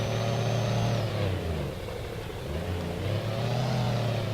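A crane truck engine in Rigs of Rods revs after being shifted into gear, a loud droning mid-pitched roar that dips, then climbs again, steady and close with no talking.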